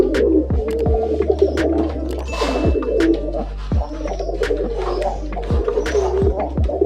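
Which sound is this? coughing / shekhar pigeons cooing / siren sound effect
shekhar pigeons cooing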